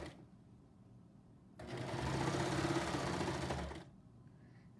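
A sewing machine stitches a quarter-inch seam in one steady, fairly loud run of about two seconds, with quiet room tone before and after.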